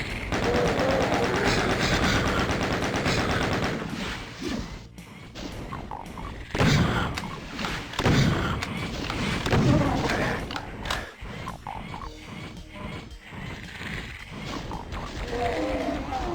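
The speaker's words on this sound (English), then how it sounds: "Give them one rocket." Rocket launcher fire against demons in the video game DOOM, heard as a dense, continuous run of loud blasts, thuds and mechanical clatter among other game sounds.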